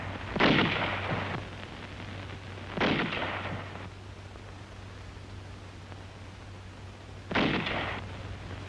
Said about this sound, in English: the highly mobile 75mm pack howitzers delivered continuous fire to the north